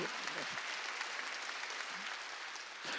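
A church congregation at a Wednesday worship service at Jesus Central Church applauds steadily, a dense, even patter of many hands at moderate distance with no voices over it.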